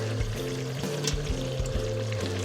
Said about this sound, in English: we're going to take a cup of water, pour that over the top